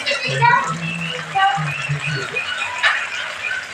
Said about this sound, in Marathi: पनीर जो की मी गरम पाण्यातला ठेवला होता त्याचं आता पाणी आपल्याला निकालून घ्यायचं आहे